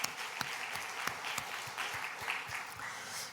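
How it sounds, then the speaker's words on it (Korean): A church congregation at a Korean thanksgiving worship service applauds together, a steady, dense patter of many hands with a few sharper claps, moderately distant and sustained throughout. "그 하나님께 우리 감사의 박수를 올려드립니다."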